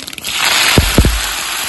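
Cumin seeds, rampe and curry leaves hit hot oil for a fish curry, giving a loud, close, continuous hissing sputter broken by a couple of dull thumps.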